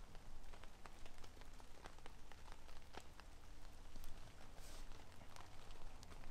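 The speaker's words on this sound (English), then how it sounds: "I think the rain is now dying down." Rain patters steadily on a camping tent, with dense scattered drops hitting the fabric close by and no voices.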